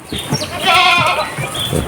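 Sheep on a Thai farm bleat repeatedly at close range, the wavering cries overlapping and rising over a low rustle of feeding.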